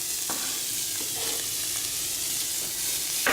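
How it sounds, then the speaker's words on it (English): Onions fry in butter in a pan, giving a constant close sizzle with occasional stirring scrapes and no one talking. "So we will put all of our onions for one small moment in our pan."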